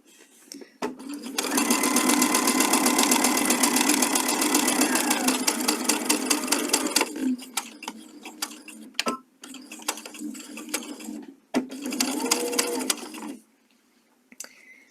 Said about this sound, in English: And start stitching that left-hand one on. A couple of back stitches to secure.